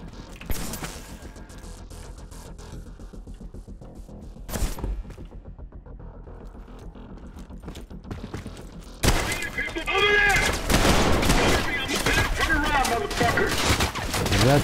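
Rapid bursts of gunfire in the video game Trepang2 crackle in quick succession, growing denser and louder in the second half, with sharp clicks and thuds mixed in.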